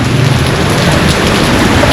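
Heavy rain pours during a flood in Bakoteh, The Gambia, a loud, dense, continuous hiss of water striking surfaces close by, with no voices.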